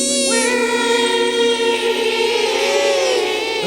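A person vocally imitates a crushed turtle, producing a sustained high-pitched, whale-like squeal with wavering harmonic tones that stays loud and steady throughout, without any speech.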